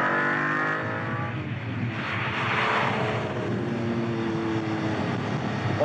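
A loud Lamborghini engine drones and revs continuously, with rising and falling pitch sweeps and throttle blips on each downshift, heard close from inside the car.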